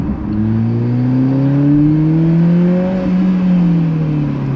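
An Alfa Romeo 4C engine revs hard and climbs steadily in pitch toward redline, loud and close, a smooth rising roar with no voices over it.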